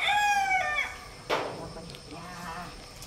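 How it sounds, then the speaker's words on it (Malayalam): A rooster crows once close by in a banana plantation where chickens forage, followed by a sharp knock and softer clucking and rustling in the background. "കോഴികൾ, ഞങ്ങളെ കോഴികൾ കണ്ടോ, വാഴത്തോട്ടത്തിൽ നിന്നിട്ട് ഇങ്ങനെ ചിക്കി ചിണങ്ങി ഓരോന്ന് കഴിക്കുകയാണ്"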